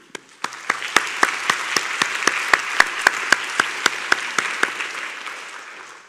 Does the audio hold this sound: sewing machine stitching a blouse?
no